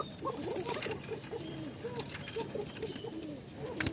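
Pigeons at a seller's loft coo in repeated soft, throaty phrases, fairly close and steady, over light rustling and patter, without anyone talking.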